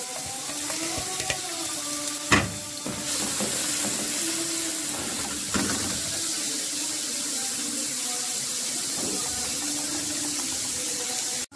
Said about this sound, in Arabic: نزلت ب3 معالق من الزيت، معايا بصلتين فرمتهم كويس